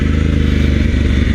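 An adventure motorcycle on street-oriented Kenda Big Block tires rides a dirt road near a washout, its engine a loud, close, steady throbbing drone with a fast pulsing beat.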